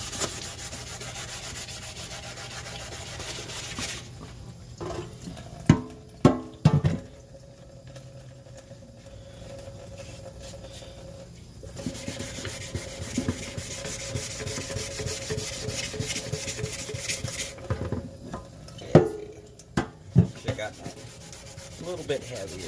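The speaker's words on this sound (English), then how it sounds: "if you got a wet sand, why not just do it right in the kitchen sink?" Wet sanding of an Allis Chalmers tractor gas tank in a kitchen sink, a steady rubbing rasp in repeated strokes with occasional knocks and splashes of water.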